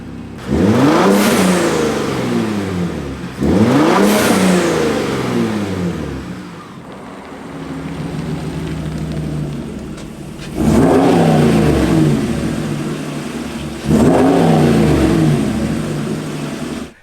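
A pickup truck's V8 engine revving hard in repeated bursts, each climbing sharply in pitch then falling back to a low idle rumble between them; loud, close and alone, with no voices.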